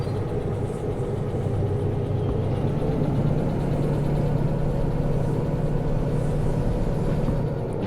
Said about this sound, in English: Wheel slipping.